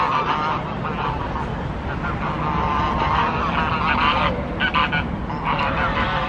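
Geese honk continuously at a lake on a nice day, a dense, loud flock chorus of overlapping calls throughout with no talk.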